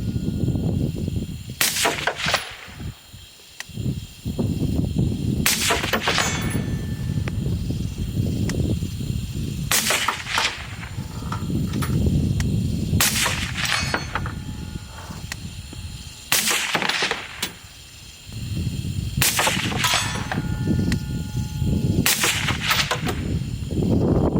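Rifle shots firing tracer rounds outdoors at night under a full moon, about seven loud, sharp reports spaced a few seconds apart, each with a brief echoing tail over steady low background rumble.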